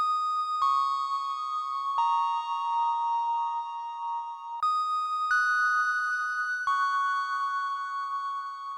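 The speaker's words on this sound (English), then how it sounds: "this little synth bell sound that I grabbed from the" Bright Yamaha DX7 synthesized bell tones ring out in a slow melodic sequence, each note struck cleanly with a shimmering, glassy decay; fairly soft, no voices.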